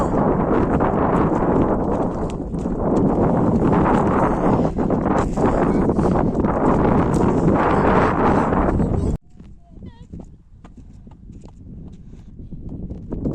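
Strong outdoor wind buffets the microphone as a loud, steady roar for about nine seconds, then drops abruptly to a quieter gusting with faint footsteps and distant voices.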